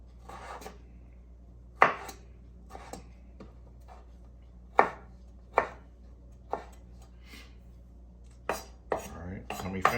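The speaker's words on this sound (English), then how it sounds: "Now all I'm gonna do is just cut these into the same size pieces that we have for the peppers and the onions." A knife chops a Roma tomato into pieces on a cutting board, giving sharp, irregular thuds spaced a second or more apart against a quiet background, close and clear.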